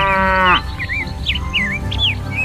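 A cow gives a loud, close moo lasting about half a second, followed by quick high bird chirps repeating over the rest.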